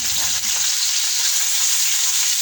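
Onions with bay leaves, black pepper, cloves, black cardamom and cumin frying in a pot for chicken yakhni pulao, a steady close hiss and sizzle with no pauses and no voices.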